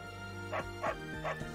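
A video game dog in Fire Emblem: Three Houses gives three short, evenly spaced yipping barks, clear and close, each with a slightly whimpering tone.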